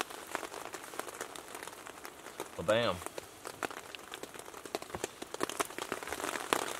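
Steady rain patters on surfaces at a wilderness camp during a storm, a dense crackling hiss that continues throughout while someone speaks briefly nearby.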